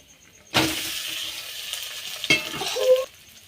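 Grated potato tipped into a hot pan with fried ginger sets off a sudden loud sizzle that hisses steadily for a few seconds, then a second burst as it is stirred before it dies away.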